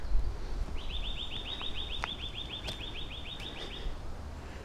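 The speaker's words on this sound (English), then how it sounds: "Can you hear that bird?" In bluebell woods a single bird sings a rapid, even trill of repeated high notes lasting about three seconds, fairly close, over quiet outdoor background with a few faint clicks.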